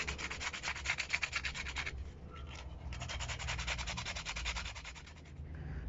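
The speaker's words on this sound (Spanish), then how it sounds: "ahora vamos a proceder a lijarla, como ya les decía, con una lija gruesa" Brake pads from a Volkswagen Vento are rubbed against coarse 24-grit sandpaper in fast rhythmic strokes, a close, gritty scraping that pauses briefly midway before resuming.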